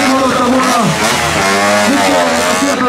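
Stunt motorcycle engine at a streetfighter show in Szombathely, revving loud and close with rising and falling pitch sweeps across the whole stretch.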